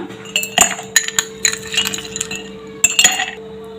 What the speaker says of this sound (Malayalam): ആദ്യം അതിലേക്ക് ഐസ് ക്യൂബ്സ് ഇട്ട് കൊടുക്കാം.